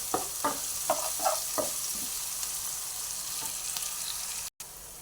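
Onions frying with salt in a pan make a steady close sizzle, with a few quick stirring scrapes early on and then a continuous crackle, cut by a short dropout near the end.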